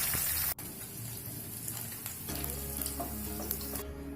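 Steady crackling sizzle of onions frying in hot oil for a fish and tomato curry, with a brief stir and clatter partway through; no voices.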